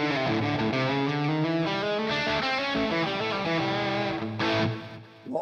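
An Enya Nova Go Sonic electric guitar played through distortion with reverb and delay, sustained chords ringing loudly and continuously with a washy trailing tail, no talking.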